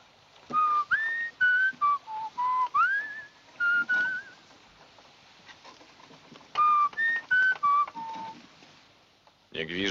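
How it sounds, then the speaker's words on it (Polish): A person whistles a tune on the deck of a yacht, clear melodic phrases repeated in bursts with short pauses, fairly close and alone over a quiet background. "Nie gwiżdżę się na pokładzie."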